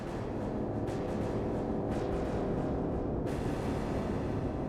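A synthesized, heavily distorted percussion hit from an unsettling electronic instrument repeats a few times, each strike ringing into a long, noisy decay that blurs into the next.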